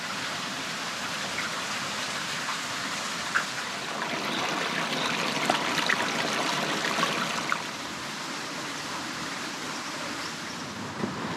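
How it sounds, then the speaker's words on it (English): Continuous rushing water of waterfalls at Girrakool National Park, NSW, Australia, roars steadily in the distance, a broad hiss of falling water with a few faint ticks and birdlike chirps. "I can hear waterfalls."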